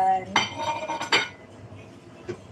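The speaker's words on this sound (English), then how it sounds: "I'm washing my dishes." Dishes being washed by hand: pots and cutlery clink and clatter in a few sharp knocks, with softer scraping and rattling between them, close by and moderately loud, with no voices over it.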